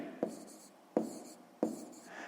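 A pen taps and scratches out a math answer on paper in three short, soft, evenly spaced strokes, close and quiet.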